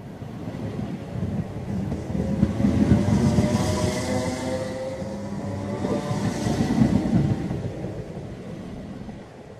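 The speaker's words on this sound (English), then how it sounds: "One train is going. Can you hear it?" A steady rumbling roar of a train rolling past, with rhythmic clatter and swells of noise rising and falling over ten seconds.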